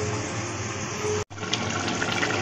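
Water pours steadily into a pot to soak rice, a continuous gushing stream with a brief break partway through.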